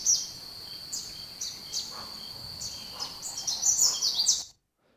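Canada warbler song: a run of high, rapid chirping notes building into a louder, jumbled warble near the end, with a steady insect-like hum behind it and no talking.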